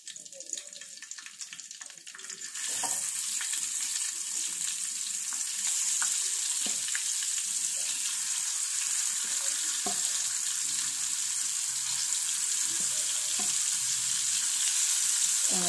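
Dried fish fries with garlic in a pan in a home kitchen, making a steady hiss of sizzling oil that jumps louder after a few seconds and then holds, with faint clinks and stirring beneath it.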